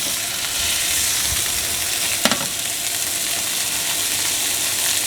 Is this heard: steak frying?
yes